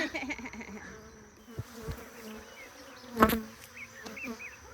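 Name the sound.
honey bees buzzing at a hive during harvest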